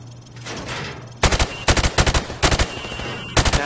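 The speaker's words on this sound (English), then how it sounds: "Now, shoot at the targets while firing from the hip." A rifle fired from the hip at targets in Modern Warfare Remastered: loud, close bursts of rapid automatic gunfire, three or four quick rattling volleys with short gaps between them, over a low background hum.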